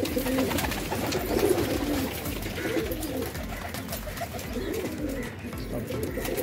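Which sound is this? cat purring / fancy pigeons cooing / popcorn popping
fancy pigeons cooing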